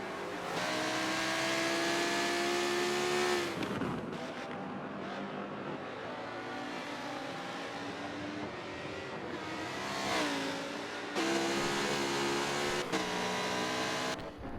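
GT race cars in a racing game at Watkins Glen roar steadily throughout, engine notes rising and dropping with gear changes, with sharp lifts around four and eleven seconds as cars brake and re-accelerate close together.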